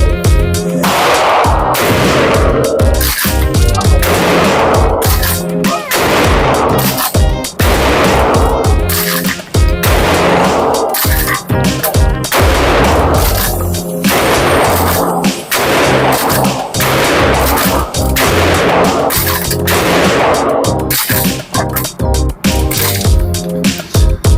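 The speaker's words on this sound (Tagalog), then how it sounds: "Malakas 12 gauge shotgun. As expected, malakas ang recoil niya." An Akkar Karatay pump-action 12-gauge shotgun fires outdoors, with loud, booming blasts that repeat roughly every second or two.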